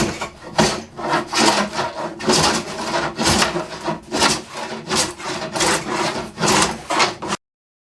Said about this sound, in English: You can hear the noise when it's cutting nicely, it bites and really rips it off.